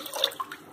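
Water splashes and pours into a crock pot holding licorice root, a brief close liquid rush with bubbly, uneven texture.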